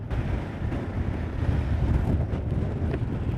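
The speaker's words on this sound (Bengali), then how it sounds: "বিশাল হাওয়া দিচ্ছে এখানে, ঝড়ে উড়িয়ে নিয়ে চলে যাবে এমন হাওয়া দিচ্ছে।" Strong wind sweeps through the high Ladakh mountains near sand hills on the route from Pang to Hanle, buffeting the microphone with continuous loud, rumbling gusts and no voices.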